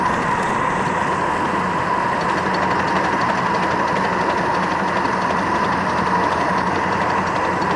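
A live steam miniature train labours up a grade after crossing a trestle, giving a steady, dense chuffing roar with a constant mid-pitched hiss, close and unbroken throughout with no pauses.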